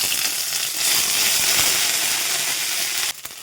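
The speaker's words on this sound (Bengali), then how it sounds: "সামান্য তেল দিয়ে দিলাম একটু এবার দেব জিরে আর একটা তেজপাতা এগুলো একটু ভাজা ভাজা করে নেব" Cumin seeds and a bay leaf frying in a little oil: a loud, close, continuous crackling sizzle that swells and holds, then drops abruptly near the end, with a few clattering knocks; no talking.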